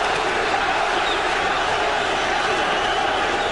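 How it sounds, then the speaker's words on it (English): Boxing fans at a Prince Naseem Hamed fight against Cesar Soto make a dense, continuous crowd roar that sounds like massed chanting. The noise stays loud and even throughout, with no break. "Prince Naseem fans in the crowd chanting Nazi, Nazi, Nazi"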